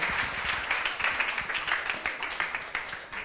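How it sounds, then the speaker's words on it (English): An audience applauds an evening's pitch competition presenters, a steady close patter of many hands clapping at moderate loudness for a few seconds without any speech. "Should we then give one more round of applause for our awesome pitchies tonight?"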